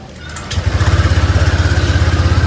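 A motorcycle engine is cranked with the electric starter and catches within half a second, then settles into a loud, close, steady pulsing idle with no talk.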